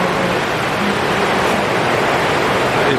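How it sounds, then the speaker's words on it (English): A heavy rain shower in the Philippines gives a dense, loud, steady hiss that fills the whole stretch without any voices. "That was very intense rain there, so it was making such a noise"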